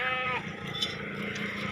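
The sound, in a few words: goats bleating at a farm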